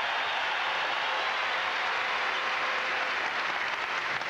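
Crowd in a college basketball arena during a 1992-93 Iowa State versus Minnesota game, applauding and cheering in a steady, dense roar that fills the whole moment with no break.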